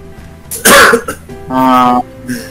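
A man coughs twice in quick succession, loud and close, the second cough harsher and more drawn out, with a short rasp trailing after.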